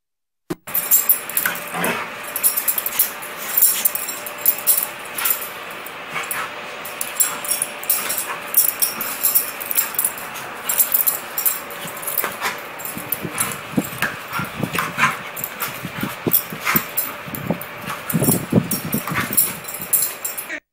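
Dogs whimper and yip repeatedly at close range, with scattered jingling and scuffling throughout.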